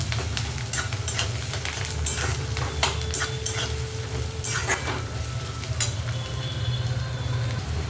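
Onions frying in oil with curry leaves in a pan for chapati chivda, a steady close sizzle with scattered scraping stirs throughout, no talk.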